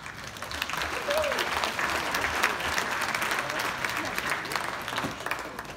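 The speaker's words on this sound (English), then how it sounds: "So please give yourselves a round of applause." An audience at a charity dinner applauds, a dense, steady wash of clapping that carries on at an even level from start to finish, with no voices breaking through it.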